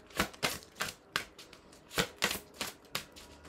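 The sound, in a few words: drawing a tarot card from a Toni Carmine Salerno deck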